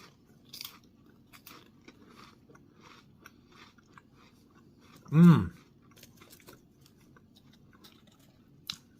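One loud, close crunch of a bite into celery stands out midway, surrounded by quiet chewing and small mouth clicks.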